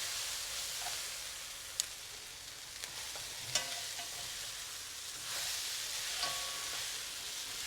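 Yellow noodles being tossed and mixed in a hot pan, a steady soft sizzle with occasional sharp clinks and scrapes of utensils against the pan, fairly quiet and close, no talking.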